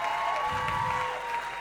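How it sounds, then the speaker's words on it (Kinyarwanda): Audience at a live stand-up comedy show in Rwanda claps for a Burundian comedian, a dense, steady wash of applause that runs unbroken and fairly loud through the whole short stretch, with no voices standing out. "sasa ngomera amashyi"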